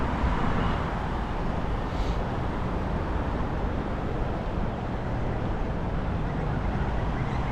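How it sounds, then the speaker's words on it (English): Steady broadband rumble of road traffic in Bangkok, a continuous wash of passing vehicles heard from a moderate distance with no distinct breaks. "And the traffic's still building."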